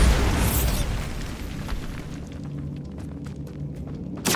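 A Bombarda spell blast in Hogwarts Legacy, a loud booming explosion at the start that decays into a rumbling, crackling tail of debris, ending with a sharp thump.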